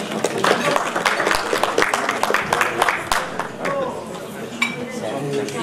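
Audience applause fills a hall at a hospital's medical talk as a heart surgeon is called to the stage, dense clapping with sharp individual claps standing out, fading slightly toward the end.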